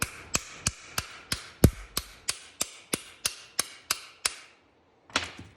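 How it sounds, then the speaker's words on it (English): Light hammer taps seating the cap of a John Deere garden tractor universal joint, about a dozen crisp metallic strikes in an even steady rhythm, close and distinct, then a short pause and one more tap, with no talking. "Just light taps with the hammer to get it to set."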